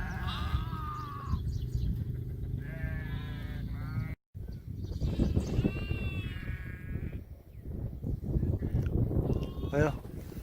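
A large flock of about 200 ewes and their lambs bleats continuously while being driven along, many overlapping calls near and far with wavering cries, under a steady outdoor background.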